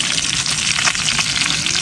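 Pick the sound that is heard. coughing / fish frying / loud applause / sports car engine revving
fish frying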